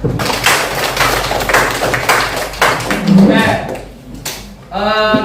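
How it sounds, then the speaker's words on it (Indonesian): Students applauding group presentations in a classroom, with a burst of irregular clapping and tapping over lively chatter, fading as a voice begins to speak near the end. "Ya, kita beri aplaus dulu"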